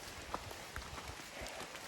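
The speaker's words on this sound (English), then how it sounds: "as expected, it rained all night, and it's still raining just a bit" Light rain falls steadily outdoors on a rainy morning along the Appalachian Trail, a faint soft patter with scattered drops tapping nearby surfaces.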